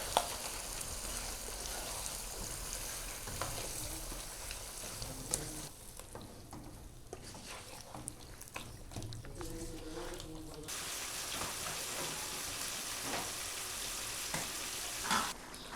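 White chicken karahi with lemon juice and chopped green chilies is fried and stirred in a pan. A continuous, close hissing sizzle fills the whole stretch, with occasional scraping stirs.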